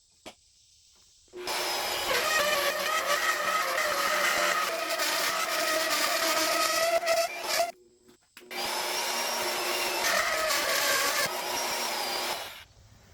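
Holes being drilled through metal brackets for a mobile beef processing trailer build, two long steady bursts of power-tool grinding and whine separated by a short pause, loud and close with no talk.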